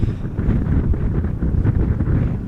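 Strong southwesterly crosswind gusts buffeting the microphone at Amsterdam Schiphol Airport, a loud continuous low rumble with surging gusts throughout and no voices.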